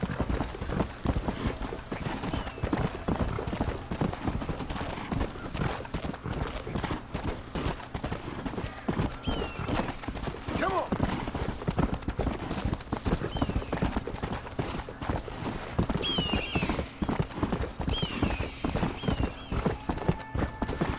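Horse hooves clip-clop in rapid, continuous rhythm from a riding horse in the Western video game Red Dead Redemption, with occasional whinnies mixed in across the whole stretch.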